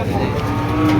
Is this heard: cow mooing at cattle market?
yes